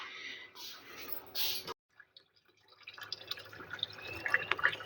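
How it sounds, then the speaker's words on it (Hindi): Dishes are washed by hand under water, with splashing, dripping and light clinks that come in bursts, briefly go quiet, then return in irregular, busier patter. "आमना धो रही है बर्तन"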